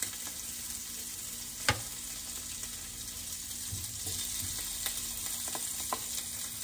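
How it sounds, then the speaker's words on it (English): Sausage patties, some of them maple flavored, frying in a skillet with a steady close sizzle and a few faint clicks and taps, no voices. "Already cooked sausage in the skillet, so it's not a big deal to add this sausage to it."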